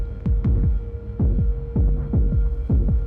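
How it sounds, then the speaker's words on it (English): Kick drum overdriven into an XFX F35 diode filter, producing loud, deep throbbing thumps in double-beat pairs, like a heartbeat, over a steady hum. "We've now created a heartbeat in the kick because we're driving a ton of tone from the overdrive into the diode filter"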